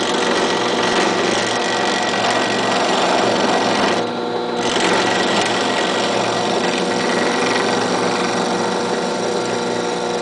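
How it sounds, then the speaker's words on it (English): A drill whirs continuously and loudly as it bores slowly into the plastic of an Iron Man model kit, with one brief dip in pitch and load midway and no talking. "So let's get to drilling on this kit."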